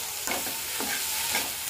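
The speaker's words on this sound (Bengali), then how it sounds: "এখন এগুলো একটু ভাজা করে নেব।" Ingredients fry in a pan with a constant sizzling hiss, broken by a few soft stirring scrapes, close and alone without speech.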